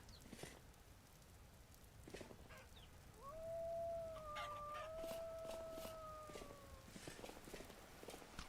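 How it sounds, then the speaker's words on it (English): Chickens cluck and crow indoors in the Vintage Story video game, with a drawn-out call rising over soft, faint background noise while a storm goes on. "What are you chickens doing in here?"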